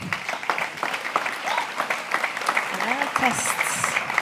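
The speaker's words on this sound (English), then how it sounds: "Please give her a big round of applause." An audience at a round-table panel on the responsibility of AI claps for a speaker, a dense, fairly close patter of many hands that carries steadily throughout, with some voices audible underneath.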